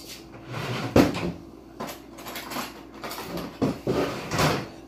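Someone rummaging through a kitchen cupboard for a big spoon: wooden doors knock open and shut and utensils clatter in several close, irregular bursts, with no talking.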